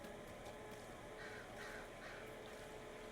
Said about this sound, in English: it's an interesting bird noise.